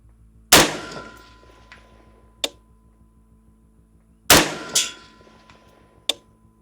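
Two loud rifle shots at a steel target 300 yards away, each a sharp crack followed about two seconds later by a fainter metallic ping from the distant plate, with no talk.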